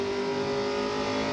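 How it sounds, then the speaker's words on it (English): Loud, steady engine drone of a 1997 NASCAR Busch Grand National Series race car at the Gateway 300, a sustained high-revving roar heard continuously and alone. "All you fans want to know what a race car sounds like exactly. That is it."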